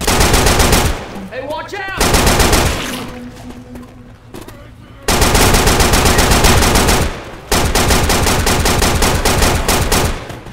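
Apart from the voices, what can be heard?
gunfire from the video game Left 4 Dead 2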